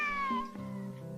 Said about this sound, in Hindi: अरे ये क्या, बिल्ली ने भी मुंह मोड़ लिया।